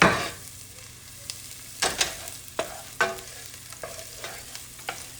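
A garlic clove and scallions are sautéed in a pan for Jamaican rice and peas. A soft sizzle runs beneath irregular spatula scrapes and taps, and a louder rattle comes near the start. No one speaks.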